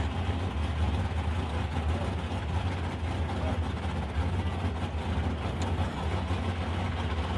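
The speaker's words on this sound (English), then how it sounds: "over there we got Stevie Hunt in the XW panel van, 408 cubic inch Ford power under the bonnet" A Ford XW panel van with a 408 cubic inch engine idles at a drag strip, giving a steady low rumble held at constant loudness for the whole stretch with no one talking.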